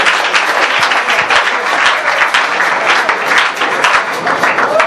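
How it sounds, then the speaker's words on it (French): A large church congregation applauds loudly and continuously in a reverberant hall, dense clapping sustained throughout with faint voices mixed in. "Nous acclamons très fort."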